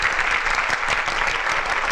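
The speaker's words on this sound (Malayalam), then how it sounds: "കൈയടിക്ക് നന്ദി." Crowd applause at an Onam celebration fun run, dense steady clapping from many hands, close and continuous without voices.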